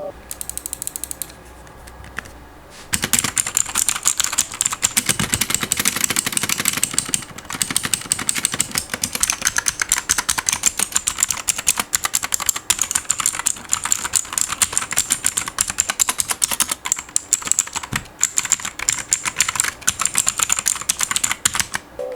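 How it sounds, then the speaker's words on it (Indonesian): Rapid clicky keystrokes from a Bajeal K71 mechanical keyboard with blue switches, a loud continuous stream of sharp clacks close to the mic after a brief quiet start. "Untuk feel ketiknya ya kayak blue switch ya gitu,"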